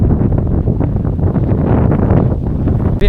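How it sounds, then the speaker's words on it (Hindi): Strong wind blowing across a hilltop at Nakta Pahad in Jharkhand, roaring and buffeting the microphone in a loud, continuous rumble with no letup. "काफ़ी तेज हवा भी चल रहा है भाई। पहाड़ का टॉप में चढ़े हैं तो हवा भी बहुत ज़्यादा आ रहा है।"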